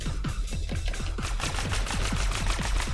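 Rapid, evenly spaced gunshots from the Neon Abyss video game fire in a steady rhythmic stream over a dense, continuous game soundtrack, each shot sharp and close.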